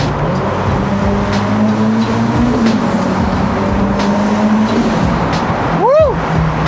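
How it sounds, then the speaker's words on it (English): Ferrari SF90 XX hybrid supercar driving through a tunnel, its engine and exhaust droning loud and steady with rising and shifting tones, a sharp swooping whine near the end, and a voice speaking over it. "That exhaust note is absolutely intoxicating."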